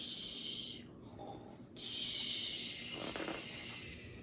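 A voice imitates a bear snoring during a picture-book read-aloud, giving a few drawn-out breathy, rasping snores at close range with brief pauses between them.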